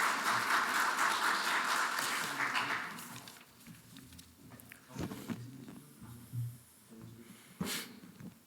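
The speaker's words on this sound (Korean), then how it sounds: "박수 부탁드립니다" Audience applause at a plaque award presentation during the 2021 Korean ITS Society autumn conference opening ceremony fills the room for about three seconds, then fades into scattered faint claps and shuffling.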